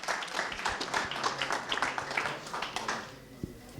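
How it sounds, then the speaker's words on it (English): A convention audience claps and applauds at a tech event for a software developer, a brief, fairly quiet patter of many hands that thins out toward the end. "please give a warm welcome applause again for the developer of Dash Drive"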